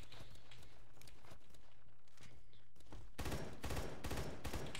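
Video game gunfire cracks in bursts, with scattered shots and footsteps at first, then a loud volley of sniper shots that dominates the final seconds.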